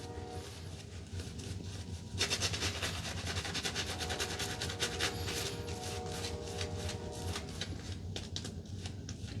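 A train rumbles past steadily, with rhythmic clattering of wheels over the rails building up and continuing at a moderate distance.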